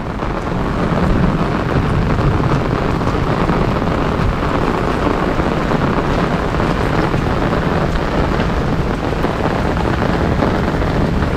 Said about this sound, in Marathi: पाऊस पडतोय आता पाऊस लवकर थांबणार नाही